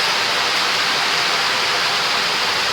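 Waterfall on a river in Jamaica, heard as a constant, loud broadband rush of falling water with no breaks and no voices.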